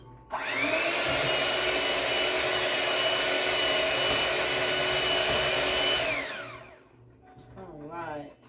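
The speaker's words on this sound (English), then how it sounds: "now we're gonna take our mixer here, hand mixer. I'm gonna mix that in" An electric hand mixer beats banana bread batter, a loud steady whine with a rising pitch at start-up that holds for about six seconds, then winds down, followed by quieter clatter.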